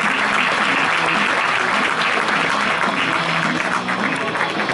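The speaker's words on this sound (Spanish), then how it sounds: "Un aplauso a la categoría." Loud, sustained audience applause at a Spanish national bodybuilding championship for the master over-40 category, dense clapping with crowd noise and faint voices underneath.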